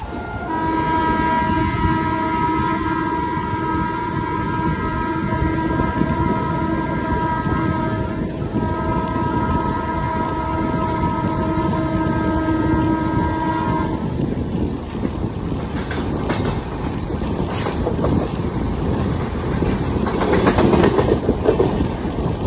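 A passenger train on a line toward Korba runs alongside a passing coal train, steady loud rumble and rolling rail noise throughout, with sustained horn-like tones in the first two-thirds and sharper clatter and squeals toward the end.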